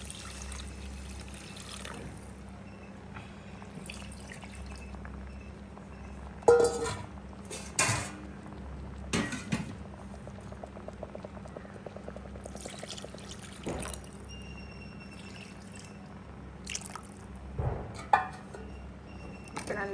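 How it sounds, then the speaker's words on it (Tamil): Milk is poured into a pot of rasavalli kizhangu kali (purple yam porridge) to heat; a soft trickle and pour comes through a low background hum, with occasional clinks and knocks of pot and utensils. "அவாக்கு தனியாக பால் விட்டு சுட வைக்க போகிறேன்"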